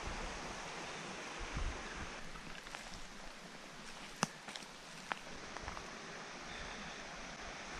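Steady, soft rushing of a flowing river, heard from a distance, with a few faint clicks and taps over it.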